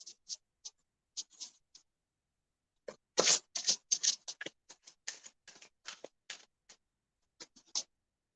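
Cards drawn and shuffled from an astrology card deck, a run of light papery flicks and scratches, sparse at first, then a dense close flurry of crisp snaps and slides, with no talking.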